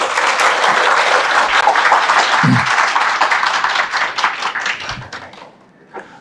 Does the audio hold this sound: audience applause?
yes